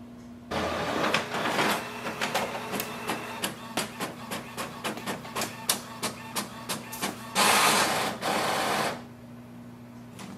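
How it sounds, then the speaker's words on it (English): An Epson WorkForce WF-7310 inkjet printer runs a test page close by, with a rapid series of mechanical clicks and whirring passes, then a louder sustained feed or motor burst near the end before it quiets. "Automatically the paper tray will come out and it will print."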